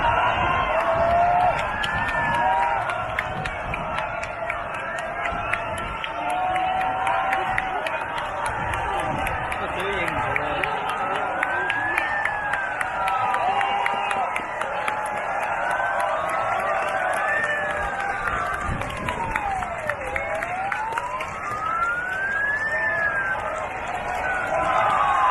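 Hong Kong protesters parting to let an ambulance through amid a demonstration: a dense, continuous crowd roar with clapping and shouts, a siren wailing up and down over it, and speech mixed in.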